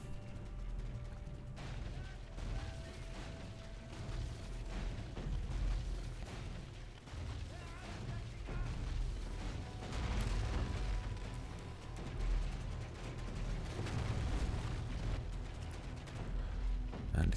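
Defensive towers firing at attacking infantry in a strategy game battle: a continuous rumble of distant shots, pops and booms layered over battle noise, moderately loud and steady without clear individual blasts.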